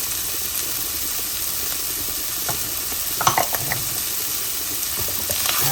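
Sweet potato filling sautés in a pan with ground bay leaf, black pepper and salt, giving a steady close sizzle and hiss with light stirring scrapes and a few pops.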